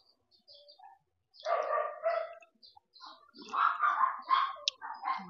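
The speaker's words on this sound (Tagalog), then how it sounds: "Daming aso." Many dogs bark in a rural Batangas setting: a short quiet opening, then clustered, overlapping barks in two loud bursts, close by and with no talking.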